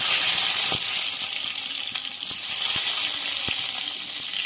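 Small desi tomatoes hit hot oil already crackling with bay leaf, dried red chilli and whole cumin for a bottle-gourd lau bahari curry; a steady, close sizzle hisses throughout, with a few sharp pops and clinks of the pan.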